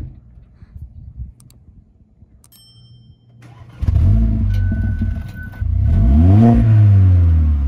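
A Mercedes CLA45 AMG engine starts and revs loudly with its exhaust valve open, a sharp crack at ignition followed by rising, falling revs that grow louder toward the end, with no talk over it.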